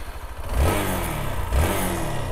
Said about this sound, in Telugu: సో ఇంజన్ ఒకటి మస్తు స్మూత్ సౌండ్ ఉంది.